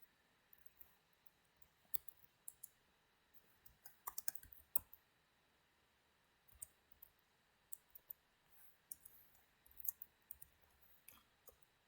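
Computer keyboard typing in scattered bursts of crisp clicks over several seconds, faint and close against a quiet background, with short pauses between runs.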